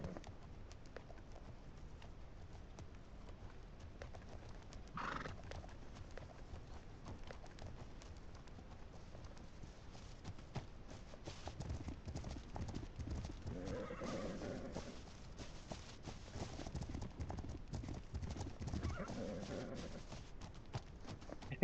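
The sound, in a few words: horse hooves and whinny in video game The Legend of Khiimori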